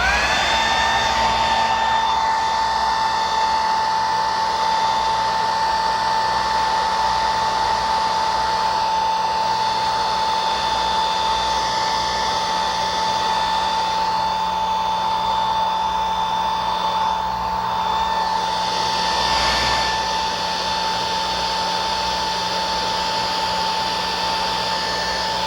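Hair dryer blowing steadily as it dries a bald cap during theatre makeup application, a loud continuous whine with a strong tonal hum that holds unbroken throughout, with no talking over it.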